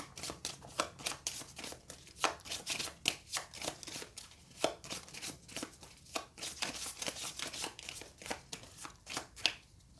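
Twelve Pax Pamir event cards are shuffled by hand in a long run of quick, crisp riffles and slaps, close and fairly quiet, with no talking.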